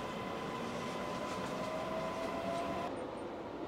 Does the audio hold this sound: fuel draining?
no